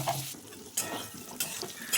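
Pointed gourd pieces fry in hot oil in a pan, a dense close sizzle broken by a few sharp bursts as the pieces are stirred and turned, with no voices.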